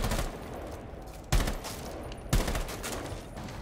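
Gunfire in the Rainbow Six Siege video game on PS4: two sharp, loud shots about a second apart over a dense, continuous rumble of game noise.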